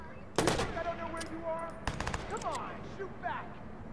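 Automatic gunfire bursts in the Watch Dogs video game, loud sharp volleys near the start and middle with further shots scattered through, under in-game voices.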